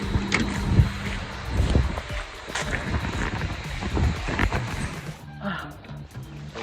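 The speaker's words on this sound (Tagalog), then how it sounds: "Lakas ng hangin" Strong gusty wind buffeting the microphone in loud rumbling bursts outdoors, with no clear talking.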